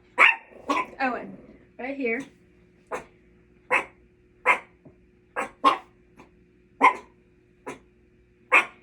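Several sharp barks from more than one dog at a steady pace, fairly close, following a brief stretch of a person speaking.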